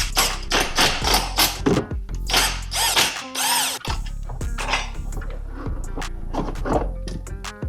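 A power tool zips out four bolts on a BMW 760Li during a coolant transfer pipe repair, sounding as close, loud, repeated whirring bursts separated by short pauses and clacks.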